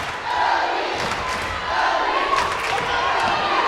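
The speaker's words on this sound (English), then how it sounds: "Crowd feeling it now." Crowd noise at a high school girls basketball game between Maranatha Christian Academy and Lyle-Pacelli, a steady roar of cheering and shouting in a gym that swells midway and stays loud throughout.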